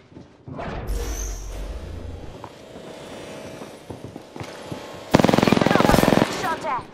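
Gunfire from an Apex Legends match crackles in a short mid-distance rattle, then a loud, dense automatic burst erupts for about a second, with game voice lines and effects around it.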